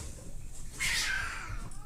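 Cat fight sound effect from an RCA stereo record: a short burst of snarling, caterwauling cat noise in the middle, loud and close against a faint background hiss.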